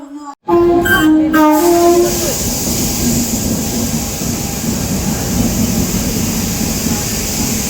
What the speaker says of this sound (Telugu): ఇక్కడైతే ట్రైన్ వచ్చేసింది చూడండి క్రౌడ్ ఎలా ఉందో